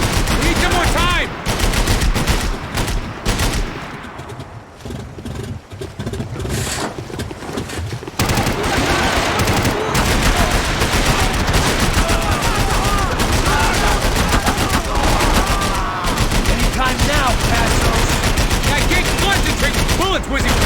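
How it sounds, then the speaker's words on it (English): Heavy gunfire in the video game Max Payne 3, with dense bursts of shots and bullets whizzing close by, loud and continuous throughout, with a voice faintly under the din. "Bullets whizzing past my head!"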